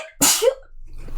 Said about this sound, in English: So I think I'm gonna sneeze.